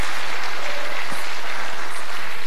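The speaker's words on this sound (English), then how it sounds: "Somebody give the Lord a hand clap of praise." Steady, dense hand clapping of praise from a church congregation, a loud continuous wash of applause with no voices over it.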